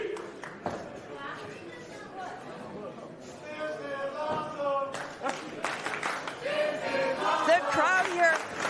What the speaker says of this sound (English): it's not often you get the "this is awesome" chant about 2 minutes into the match